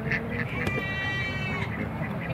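Ducks being herded by a dog at a chuckwagon race event quack repeatedly in quick, overlapping calls, fairly close and loud over outdoor background noise.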